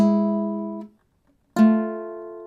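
Two guitar double-stops plucked one after another, each ringing clearly and decaying, with a short silent gap between them.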